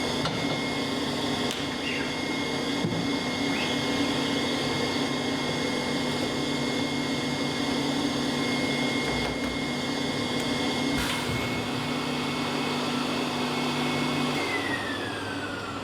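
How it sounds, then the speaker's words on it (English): A screen printing vacuum table runs continuously, a steady loud motor whir and hum with a constant tone, a few faint clicks and handling sounds over it, no talking. "I'm just going to turn the vacuum off just so I can explain this part without the noise."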